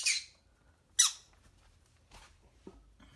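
Pet baby birds give two sharp, shrill squawks close to the listener, followed by fainter chirps and rustling.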